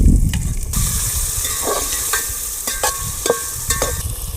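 Fresh ridge gourd (turiya) frying in a hot pan, with a steady sizzle under repeated scraping strokes of a spoon stirring it, close and fairly loud, with no voices.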